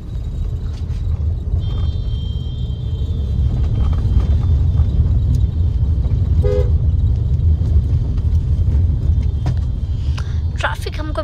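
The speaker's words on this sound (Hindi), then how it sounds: "ट्रैफिक हमको मिल चुका है," Low road rumble fills a car's cabin in heavy Indian traffic with trucks, while a few short horn toots sound nearby and people talk inside throughout.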